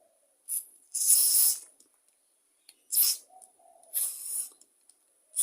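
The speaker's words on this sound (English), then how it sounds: "take your carb cleaner and just go all the way over all the passageways" Carb cleaner sprayed from an aerosol can into the passages of a Walbro carburettor off a leaf blower, heard as three or four sharp, close hissing bursts separated by short silences.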